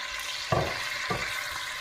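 Meat going into a pan of melted butter and oil for a bean stew, a steady close sizzle with two brief louder bursts as pieces hit the fat.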